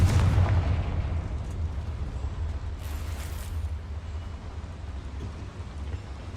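Explosive blasting spells in the Hogwarts Legacy video game, a loud deep boom opening the clip followed by a continuous rumbling, crackling roar of debris and rubble that slowly fades with no voices.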